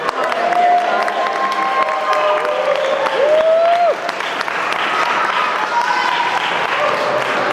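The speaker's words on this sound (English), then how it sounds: "claps coming for Jonathan Seagull" Audience applause for poet Jonathan Seagull at a poetry reading under a dome, steady clapping mixed with crowd noise and a few whoops, with a voice speaking over it.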